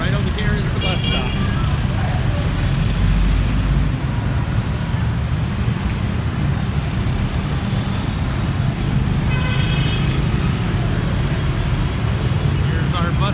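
Street traffic at a city bus stop: steady roadway rumble of passing cars and buses with a couple of horn toots, while a person talks nearby.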